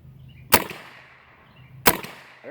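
Two sharp, close cracks from a Mossberg 351CD .22LR rifle firing Herters ammunition, spaced a little over a second apart, each with a short fading tail.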